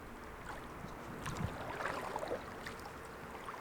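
Kayak paddle dipping lightly into water on a sunny outing, soft splashes and dribbles over a steady background of wind and moving water, the strokes faint and irregular as if paddled with one hand.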